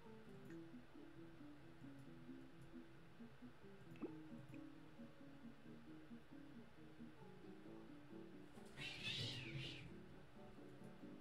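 Pet cats meowing indoors, a short burst of higher-pitched mews near the end over a steady background of music and room noise.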